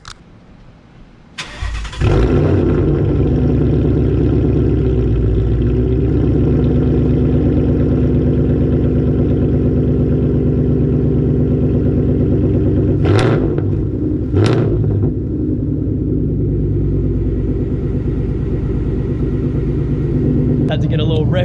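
A 2018 Ford Mustang GT with an MT82 manual gearbox, already warm from driving, cranks and fires, then settles into a loud, steady rumbling idle with two brief throttle blips partway through.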